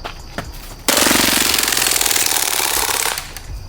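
A rapid burst of full-auto fire from an airsoft Glock 18C pistol rattles for about two seconds, loud and close, a fast continuous stream of pops.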